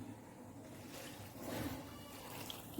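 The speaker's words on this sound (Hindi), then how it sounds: "इसमें मैंने पानी डालना है" Plain water pouring steadily into flour in a bowl while mixing pizza dough, a soft continuous splash and trickle heard up close with no talking.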